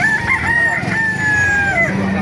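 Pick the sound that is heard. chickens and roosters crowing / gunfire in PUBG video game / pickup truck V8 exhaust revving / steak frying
chickens and roosters crowing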